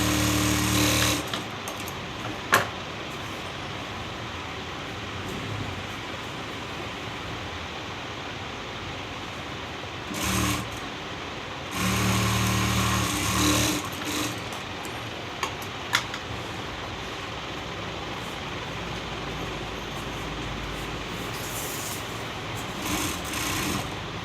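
Sewing machine stitching a fold along the top of a cloth made from blouse pieces for a Gudhi sari, a steady mechanical whir running throughout with several louder bursts of faster stitching, close and alone with no talk.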